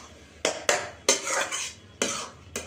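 A cooking pot of bottle gourd is lifted off the stove, with several close metallic clanks and scrapes of the pot and utensil at irregular intervals and no talk.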